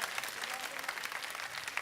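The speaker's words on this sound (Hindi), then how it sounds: "सिर्फ बैठ के ये वाले लोग जो हैं तालियां बजाएंगे" Audience applause at a live Ramzan iftar television broadcast, steady dense clapping from a crowd filling the whole stretch without a break, fairly close and even in loudness.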